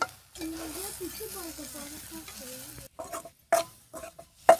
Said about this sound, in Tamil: மசால் பொடி நல்லா வதங்கின பின்னாடி